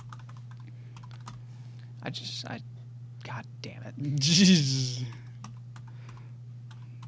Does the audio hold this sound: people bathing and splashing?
no